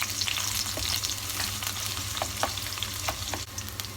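Red onion sizzling in hot oil, a dense, even crackle with occasional sharp pops and light stirring, close up and moderately loud, no voices.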